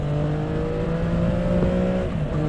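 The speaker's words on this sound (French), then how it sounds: "Le petit sifflement du 3 cylindres" A 2023 Triumph Trident three-cylinder motorcycle engine, power-restricted, pulls steadily under acceleration, its tone holding a smooth whine with a faint whistle, loud and close throughout.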